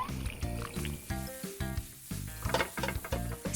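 Cartoon eggs frying in a pan give a rhythmic, bubbly sizzle in short repeated bursts over a light musical backdrop, with bright pops and clinks scattered through.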